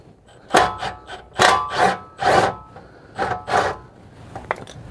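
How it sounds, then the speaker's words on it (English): A wrench working a bolt loose on the rear end of a Nissan Z31, heard as about six separate rasping, ratcheting strokes in uneven bursts, close by and with no talking. "Put a wrench on there."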